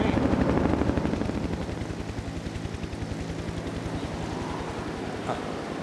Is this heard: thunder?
no